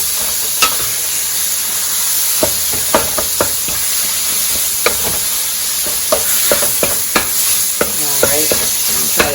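Ravioli tossed with Italian seasoning in a hot pan, a loud continuous sizzle punctuated by repeated sharp knocks and scrapes of a utensil against the pan, irregular and close.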